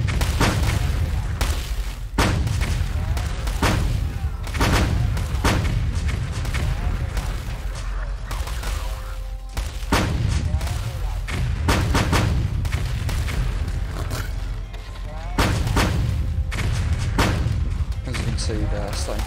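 Tank and artillery fire from a war strategy game: repeated heavy booms and gunshot bursts at an irregular rhythm over nearly twenty seconds, loud and dense, with a steady rumble of battle noise between them.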